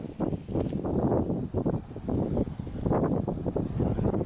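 Gusty wind buffets the microphone while walking across a green bridge, rough low rumbling bursts that rise and fall irregularly, close and fairly loud, with no talking.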